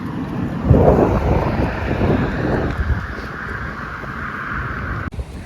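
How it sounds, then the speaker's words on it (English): Steady wind rumbles and buffets against the microphone outdoors, a low roar with a sharp gust near the start and a brief dip at the end. "I have to throw my hair up in a ponytail because it's pretty windy"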